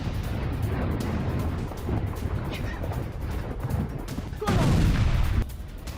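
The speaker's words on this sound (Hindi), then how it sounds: "हमले के बाद वीडियो में दिखे भीषण धमाके" Heavy blasts from military strikes on Iranian sites rumble in a dense, continuous low roar, with a sharper loud burst near the end.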